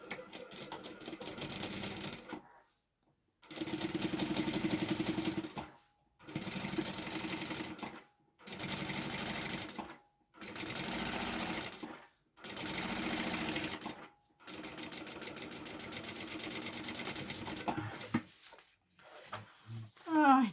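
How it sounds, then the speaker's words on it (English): Home sewing machine stitching a seam on a bag, running in five or six steady bursts of a couple of seconds each with short pauses between, close and clear, ending with a few faint clicks. "So we're going to sew that at the seam allowance."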